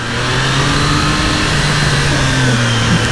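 A Triumph Trident 660 motorcycle engine revving hard, loud and close, a steady high-pitched drone holding for a few seconds without any voices.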